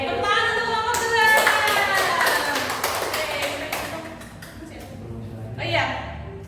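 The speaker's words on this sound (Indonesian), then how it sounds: "Oke, tepuk tangan untuk kelompok 2." A classroom group claps for a student presentation, a short burst of hand clapping that builds then thins into scattered claps, with voices and chatter mixed in.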